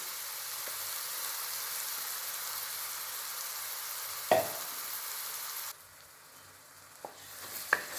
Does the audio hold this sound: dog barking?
no